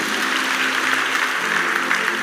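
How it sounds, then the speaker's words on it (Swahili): A church congregation at a live Sunday service claps steadily and densely throughout, a dense sustained burst of applause close by with no talk over it. "Mpigieni makofi mazuri."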